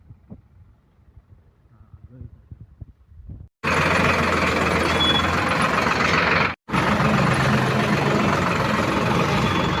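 A tractor engine runs steadily and loudly close by on a village farm during wheat season, a continuous broadband roar after a stretch of faint talk and quiet, with one brief dropout partway.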